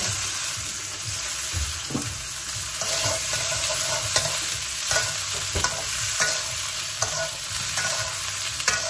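Mixed vegetables sizzle and fry in a pan with a little turmeric for a village-style vegetarian dish, a steady close hiss broken by repeated scraping stirs, with no voices.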